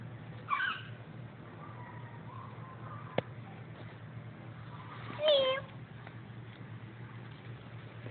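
Two faint cat meows, one early and one later, rise briefly over a quiet room with a low background hum.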